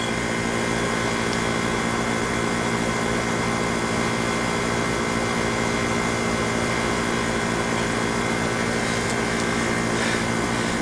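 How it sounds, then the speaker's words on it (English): Stick arc welding on a piece of steel with an 80 amp DC Harbor Freight arc welder, rods held at a slanted angle: a steady, loud, crackling hiss that runs unbroken from start to finish with no talk. "I'm going to weld on this piece of steel"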